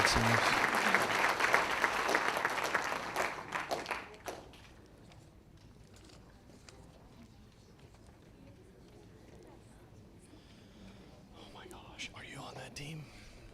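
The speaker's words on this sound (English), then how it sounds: "How about a round of applause for the juniors?" Audience applause for juniors at a county school awards ceremony, brisk and fairly close, lasts about four seconds and then cuts off, leaving quiet room noise with faint murmuring and a few scattered claps later.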